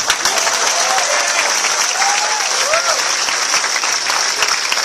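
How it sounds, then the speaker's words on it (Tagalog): An audience at a company success-story event claps for a former taho vendor, a steady dense wash of applause lasting throughout, with a few faint voices calling out over it. "Milyong palakpak para sa ating taho, Beto!"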